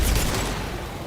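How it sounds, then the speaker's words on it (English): A concussive shot firing in Mass Effect 2, a dense, loud, booming blast filling the whole moment and trailing off slightly, with no voices. "Firing concussive shot."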